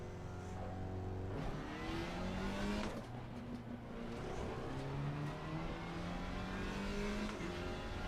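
A race car engine in the video game Grid Legends revs hard and continuously, climbing and dropping through the gears, with occasional tire squeal and no talk.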